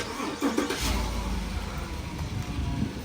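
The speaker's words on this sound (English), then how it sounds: "if I start the truck, that works" A Chevrolet Silverado or GMC Sierra pickup truck engine cranks and catches, then settles into a steady rumbling run, close by and moderately loud.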